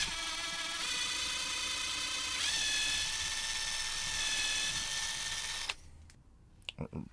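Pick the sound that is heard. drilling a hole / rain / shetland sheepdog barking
drilling a hole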